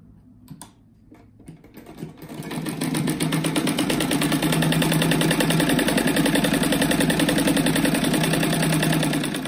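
A sewing machine stitches pieces of kite fabric together. A few handling clicks come first, then the machine runs loud and steady at a fast, even, close-up whir for several seconds.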